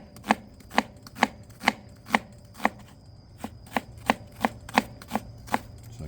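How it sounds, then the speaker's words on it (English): A knife julienning an onion on a cutting board lands about thirteen crisp, evenly spaced chops, close and loud over a low background hum. "I'm gonna julienne this onion"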